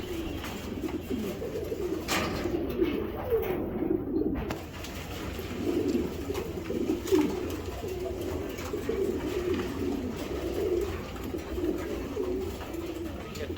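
Several racing pigeons, among them a dark checker male, keep up a continuous chorus of low, burbling coos nearby, with repeated throaty phrases overlapping throughout and no talking.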